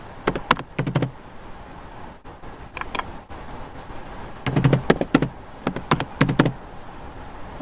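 Keys on a computer keyboard are tapped in short bursts of clicks with pauses between them, close and fairly crisp, as a password is entered in a quiet room.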